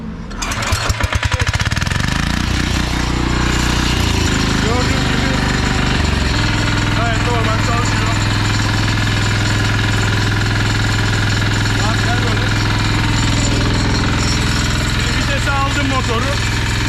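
A Yağmur YET300 diesel engine is restarted and settles into a loud, steady, close knocking idle that runs continuously, with a person speaking over the engine noise.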